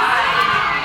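A crowd of audience members shouts together at a talk, a dense burst of many voices yelling at once, loud and sustained for under a second.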